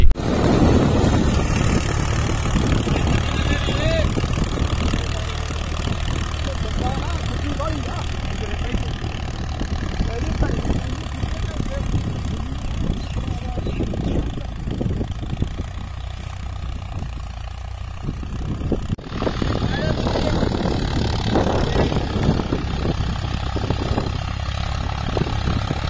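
A Ford 3600 tractor ploughs a field, its engine a steady low drone that holds throughout and roughens briefly partway through.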